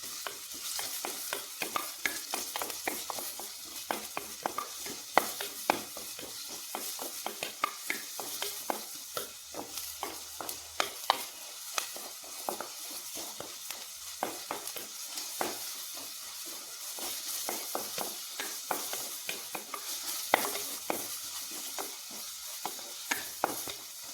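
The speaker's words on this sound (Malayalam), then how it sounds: "പിന്നെ കറിവേപ്പില്ല ഒന്ന് ഇളക്കി കൊടുക്കാം" Curry leaves and green chilli crackle in hot oil as a spoon stirs them in a pan for an egg rice dish. A steady close sizzle runs throughout, with frequent small scraping clicks and no talking.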